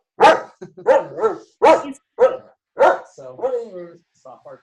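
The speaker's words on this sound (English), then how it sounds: "stop barking." A dog barks sharply several times in quick succession, close and loud, with a short whine near the end.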